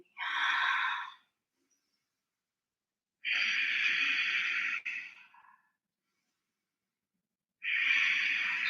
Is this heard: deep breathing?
yes